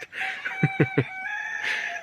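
Chickens cluck and squawk nearby as a turkey chases them, with three sharp bursts of fowl calls in quick succession amid a flurry of farmyard noise.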